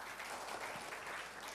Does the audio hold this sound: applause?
yes